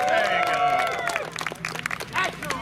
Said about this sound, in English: Give them applause.